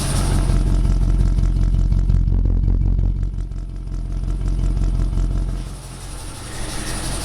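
A Pontiac GTO engine with dried-out, worn belts runs steadily at close range with a low rumble and a faint ticking clatter, then eases down slightly near the end.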